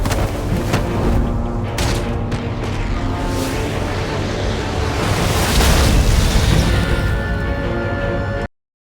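A loud, sustained explosion in the Batman: The Enemy Within video game roars for several seconds, with rumbling blasts and debris crackle, then cuts off abruptly.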